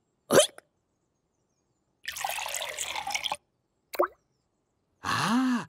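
A cartoon character hiccups in short bursts between splashy, dripping water-like sound effects, each hiccup a sharp isolated pop with a rising-falling voiced tone, no talk in between.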